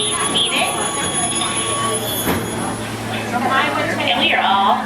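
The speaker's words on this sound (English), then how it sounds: "Please remain seated until the train comes to a full and complete stop" Walt Disney World Railroad steam locomotive No. 3 "Roger E. Broggie" slows to a stop, its wheels grinding and squealing in a steady rumble as people talk loudly nearby.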